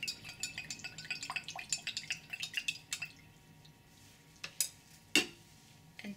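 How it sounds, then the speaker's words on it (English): A spatula stirs carbomer gel mixed with TEA inside a glass container, making a run of irregular clinks and soft wet taps against the glass. The stirring then goes quieter, with a few sharper knocks near the end. "We will stir very well so the TEA is well mixed. Even using a spatula."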